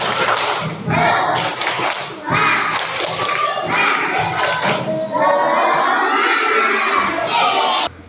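A classroom of children performs a rhythmic group clap as a warm-up before a lesson, with loud bursts of clapping mixed with shouting and cheering voices, filling the whole stretch.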